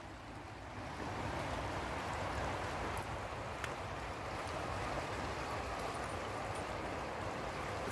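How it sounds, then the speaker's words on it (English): Flooded river after heavy rain on a winter's day, rushing in a steady, dense roar of turbulent water that stays loud and continuous throughout, with no talking. "The river's a bit flooded, all the rain we've had."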